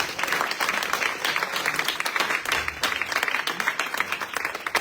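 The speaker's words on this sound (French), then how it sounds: "Celui qui inspire, on l'applaudit très fort." A church congregation applauds at a consecration service, sustained dense clapping at moderate level filling the hall.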